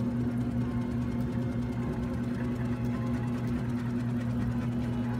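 A sub-zero mechanical extraction apparatus spins steadily at 3,000 RPM, giving a constant, even machine whir with a strong low hum and no pauses, close and continuous throughout.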